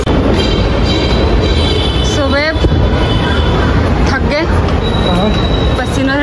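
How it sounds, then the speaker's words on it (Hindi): A Delhi metro train arriving at a station, with loud continuous rumble and rail noise, rising squeals of wheels or brakes around the middle and again near the end, while people talk nearby. "मेट्रो अभी आ रही है"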